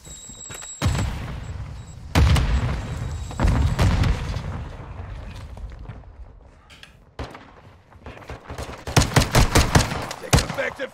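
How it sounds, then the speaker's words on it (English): Loud gunfire and a Semtex grenade blast in the video game Warzone, with sharp bursts of shots and booming impacts coming in clusters, then a rapid volley near the end. "Throwing Samtex!"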